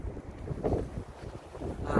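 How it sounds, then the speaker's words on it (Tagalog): Strong wind buffeting the microphone in gusty, roaring waves, with no voices. "Grabe yung hangin. Lakas."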